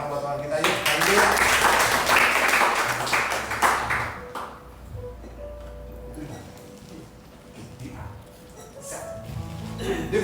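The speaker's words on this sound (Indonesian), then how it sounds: "Tepuk tangan buat Tuhan kita yuk." Church congregation clapping hands in worship during a service in Ketapang Utara, a dense burst of applause at the start that fades after a few seconds into quieter room sound with a voice.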